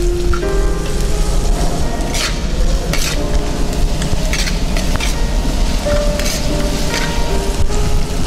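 Onions sautéing with salt in a pan for a Kongu-style chicken gravy give a loud, continuous sizzle with crackling spatter and occasional stirring clinks, close up and without talking.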